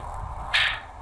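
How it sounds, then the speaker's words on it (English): A single brief, bright metallic clash rings out once over a steady low background hum, distant rather than close. "That is the sound of metal clashing against metal,"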